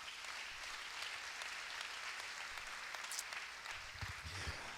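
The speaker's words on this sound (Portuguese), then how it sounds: "Uma salva de palmas para o Senhor Jesus." A church congregation applauds with a steady, dense wash of clapping that holds evenly throughout, heard at a distance and fairly faint.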